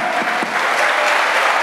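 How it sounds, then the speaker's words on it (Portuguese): A short burst of steady, dense crowd applause at a Brazilian awards show as a guest is called up, loud and continuous throughout. "Uma salva de palmas pro Lauro aqui"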